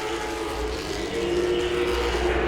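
Late model race cars racing at Langley Speedway, a dense, steady roar of several engines droning together, loud and continuous throughout without a break.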